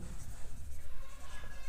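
Chalk or marker writing on a board during a physics lesson, short scratchy strokes in an uneven rhythm, close and fairly soft.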